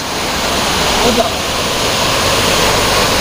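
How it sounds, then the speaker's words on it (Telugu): Small roadside waterfall near Baba Budangiri hills in Chikmagalur, with low water flow, giving a steady broadband rush of falling water, close and continuous throughout with no pauses. "వెళ్ళే దారిలో చిన్న వాటర్ ఫాల్స్"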